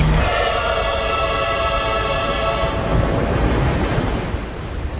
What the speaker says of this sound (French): La crue déferle à travers le canyon avec une force exceptionnelle.